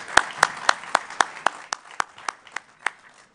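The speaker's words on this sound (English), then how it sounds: "Can we give them a round of applause?" Slow, evenly spaced claps at a national convention in South Africa, about a dozen distinct strikes that fall in a steady rhythm and fade toward the end, as if from one or a few people near the microphone.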